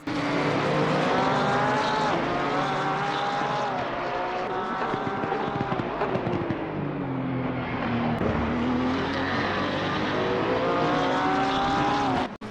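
Porsche race cars roar around a track in a sim-racing event, engines droning loud and continuous with rising and falling pitch as cars pass close together, no talk.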